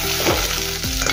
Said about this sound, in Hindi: इसको अच्छे से भूनना है, कलर आने तक, तभी अच्छा मसाला बनेगा अपना भरवा बैगन का।